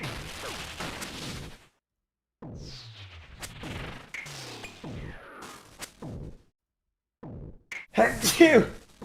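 A single sharp sneeze bursts out amid lively gaming chatter, with game gunfire and whooshing effects around the talk.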